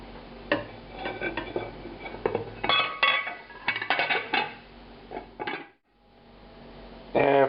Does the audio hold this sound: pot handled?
yes